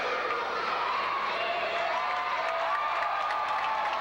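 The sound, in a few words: wrestling crowd roaring and applauding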